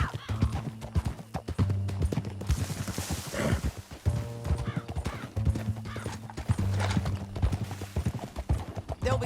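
A horse gallops through a canyon in Red Dead Redemption 2, its hoofbeats drumming in quick rhythmic bursts with a whinny partway through and gunfire and other game noise around it.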